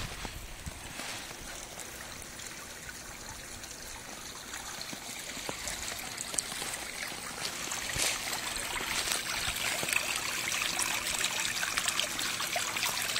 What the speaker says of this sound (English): but we still got flowing water here